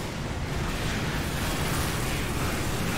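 Rocket launcher explosion in Team Fortress 2, a loud, dense roaring blast that fills the whole short stretch without a break.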